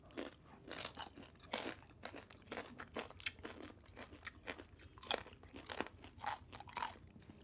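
Crispy oven-roasted pork belly skin chewed up close: a rapid, irregular run of loud, crackly crunches from bite after bite, with no talking.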